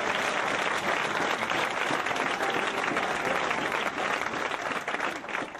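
A church audience applauding and cheering in worship, a dense, sustained wash of clapping that fills the room and tapers slightly at the end.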